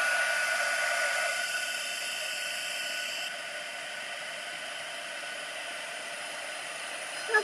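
A heat gun blows steadily as it melts copper embossing powder in a card craft session, a constant airy whoosh that drops slightly in level partway through and runs alone without talk.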